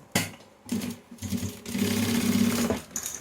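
A sewing machine stitches a waterproof roll-up toiletry bag in short bursts, with a brief run, a pause, then a longer steady whirring stretch, close and fairly loud.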